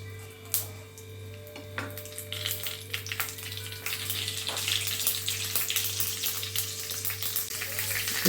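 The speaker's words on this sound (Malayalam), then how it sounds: "കടുക് പൊട്ടി." Mustard seeds popping and crackling in hot coconut oil for a buttermilk curry with ash gourd, a close, busy sizzle with sharp pops that grows denser over several seconds above a steady low hum.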